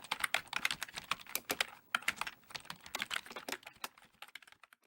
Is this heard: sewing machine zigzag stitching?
no